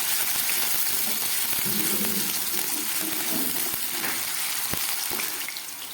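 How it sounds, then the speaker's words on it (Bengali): Potatoes fry in hot oil in a pan, a loud continuous sizzle with occasional clicks of stirring and no talk. "এবার এই আলুগুলোকে আমি এর মধ্যে ভেজে নেব।"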